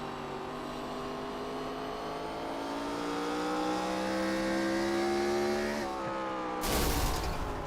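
A Gen 4 Cup race car engine at Irwindale Speedway in iRacing, damaged and failing, drones loud and steady with its pitch slowly rising, then cuts out abruptly, followed by a short burst of harsh noise.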